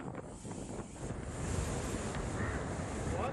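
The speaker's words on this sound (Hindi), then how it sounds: "तेज बारिश के साथ समुद्री हवाओं के साथ जो लहरें आई हैं" Strong sea winds and crashing waves from Cyclone Yaas on the coast at Digha, West Bengal, roar as a loud, continuous surge with heavy wind buffeting the microphone.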